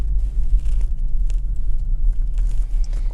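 A 2012 Porsche Cayenne V6 on the road gives a steady, loud low engine roar with rumble, close and continuous, and no talking over it.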